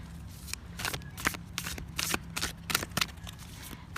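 A small mini tarot card deck is shuffled close up, a quick series of crisp riffling flicks and soft card slaps over about four seconds, with no talking.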